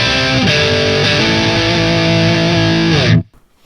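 Heavily distorted electric guitar through a Marshall JVM amp on its red channel, a thick sustained chord ringing loud and dense, sliding between pitches, then cut off abruptly into near silence.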